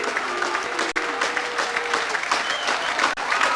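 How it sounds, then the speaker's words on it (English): Home fans at Home Park applauding Plymouth Argyle after a 2-0 win over Gillingham, a broad, steady wash of clapping from a large stadium crowd with faint voices. "deserving the applause they get from the home park faithful."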